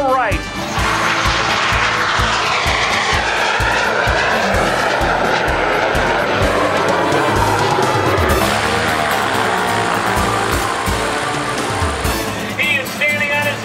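Aerobatic airplane performing a rolling turn along the show line at the Wings Over Waukegan 2013 air show, its engine droning loudly and continuously with shifting pitch over crowd noise and a commentator talking throughout.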